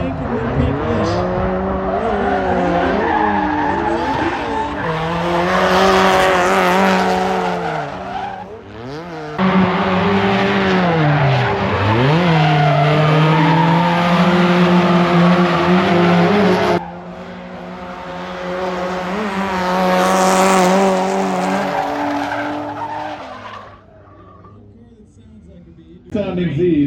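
A Nissan Z drift car doing donuts at Suika Circuit, engine wailing and tires squealing in long looping sweeps, loud and near, rising and fading with each circle and cut by brief gaps, with people talking.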